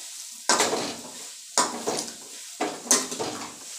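Bottle gourd tipped into a pan of fried, reddened cumin and stirred, giving three separate bursts of scraping, clattering and light sizzling, each dying away before the next.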